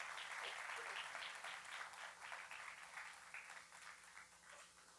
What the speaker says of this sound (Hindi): तालियों के साथ इनका स्वागत करें